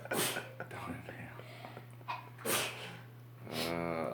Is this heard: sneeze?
yes